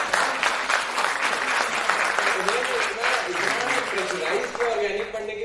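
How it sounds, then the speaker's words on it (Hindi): Loud, sustained applause from the audience at a celebration and felicitation programme for IIT JEE 2023 students, with voices and cheering mixed into the dense clapping throughout. "एक बार जोरदार ताली"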